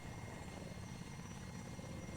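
Helicopter in the ARMA 3 video game flies at low altitude, its rotor thumping in a steady, fast chop under a continuous engine drone, faint and unbroken throughout.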